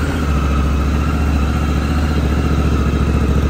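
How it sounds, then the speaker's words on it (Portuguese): A Honda CRF1100L Africa Twin 1100 twin-cylinder motorcycle, a 2023 model, idling steadily up close, its low even rumble running alone and unchanging throughout. "Vou ligar ela aqui para vocês ouvirem o ronco."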